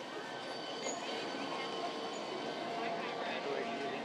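A small train pulls out of a railway station in Copenhagen, a steady low rumble and faint rolling hum running throughout at moderate distance with no clear talk.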